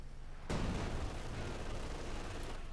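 A field gun bombarding in the wartime strategy game Company of Heroes 2: a sudden loud blast followed by a long rumbling, crackling roar of distant gunfire and explosions, with no talking.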